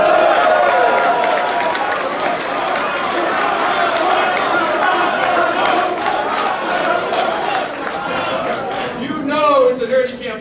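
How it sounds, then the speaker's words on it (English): Crowd noise at a campaign town hall in Las Vegas, a dense, steady roar of many voices shouting and cheering throughout, with a few sharper whoops near the end. "It's a dirty campaign when people are actually cheering PowerPoint."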